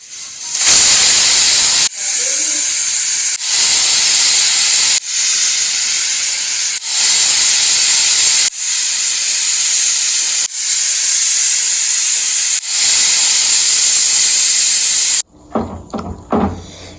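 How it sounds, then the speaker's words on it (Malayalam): A pressure cooker full of beef curry hisses in long loud bursts of escaping steam, repeated whistle-like blasts with short gaps between them, before the sound drops away into quieter clatter at the end. "ഇത് നല്ലതുപോലെ അടച്ച് ഒരു 8 വിസിലിന് വേണ്ടി നമ്മൾ വെക്കാം"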